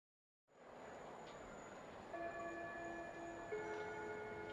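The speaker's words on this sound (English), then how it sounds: "The school bell rang, bringing the day to a close" School bell from the visual novel game Chaos;Head, a sustained faint electric ring that starts abruptly after a short silence and holds steadily over a soft background hiss.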